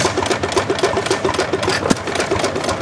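A 101-year-old antique engine runs at a fall engine show with a steady, loud chugging beat at a regular idle pace, alone and close.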